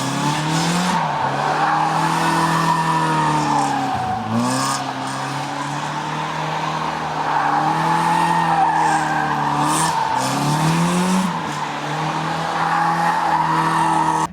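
A nitrous-equipped car in second gear accelerates hard with its throttle floored, engine droning and rising in pitch while tires squeal and skid in long sweeps, loud and close, with no talking.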